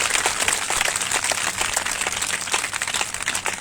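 A church congregation claps during a Punjabi sermon, a busy, fairly loud patter of many hands with individual claps popping through, sustained evenly with no speech over it.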